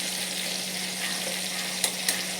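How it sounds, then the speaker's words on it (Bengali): Tomatoes fry in a pan over a low gas flame for a pabda fish curry, a soft steady sizzle with two brief clicks from the stirring utensil near the end. "টমেটোটা একটু নাড়াচাড়া করছি,"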